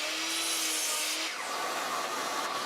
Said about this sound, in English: then cut to final length over at the miter saw